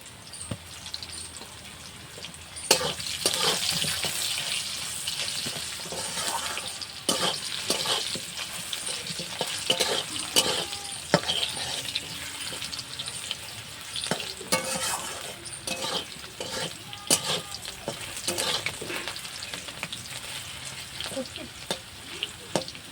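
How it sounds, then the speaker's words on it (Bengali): Potatoes fry with a little salt in a pan in a village kitchen, giving a continuous close sizzle broken by frequent scraping and clattering stirs, with a brief watery splash early on. "প্রথমে আমি আলুটা দিয়ে দিচ্ছি আলুটা একটু ভেজে নেব"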